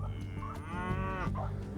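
Prize-winning cattle give one long, close moo lasting over a second, over a steady outdoor rumble.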